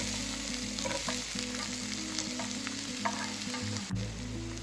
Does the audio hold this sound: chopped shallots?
yes